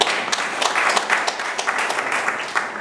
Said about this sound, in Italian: il giudice Domenico Aiuma, il dottor Aiuma, al quale facciamo un applauso per la nostra.